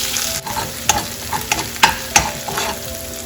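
Green chili and ginger garlic paste frying in a pan for butter chicken, a steady close sizzle broken by several sharp scrapes and taps of a spatula stirring, with no talking.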